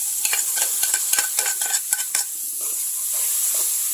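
Spices roasting in a pan are stirred briskly, with a quick run of sharp spoon clicks and scrapes over a bright sizzle that settles into a steady, quieter frying hiss.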